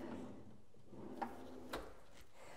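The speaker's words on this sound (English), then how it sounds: "So, got your shallower drawers and your deeper drawers." Kitchen drawers in a large house being opened and closed, with two sharp wooden knocks a half-second apart and a fainter slide after them, in a quiet room.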